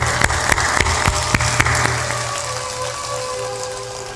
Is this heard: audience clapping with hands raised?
yes